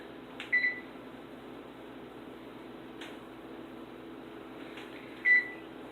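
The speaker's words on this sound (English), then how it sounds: "We'll stick it in our oven." An oven set to 350 degrees runs while a pecan torte bakes, producing a low, steady mechanical hum with two short beeps, one early and one near the end, and no voices.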